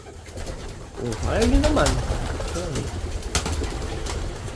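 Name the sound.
pigeons cooing and flapping wings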